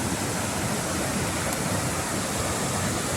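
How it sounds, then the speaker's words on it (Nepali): Rushing water from a waterfall or mountain stream beside a trail in the North Annapurna Base Camp area, a steady, dense roar that holds constant and fairly close throughout with no voices. "झरना भनौँ कि खोला भनौँ यो अत्यन्त रमाइलो रहेछ"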